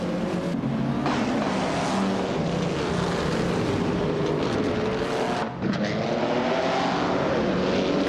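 Race cars in a racing video game roar off the start line together, a dense, steady engine drone with layered revving tones that hold loud and constant throughout.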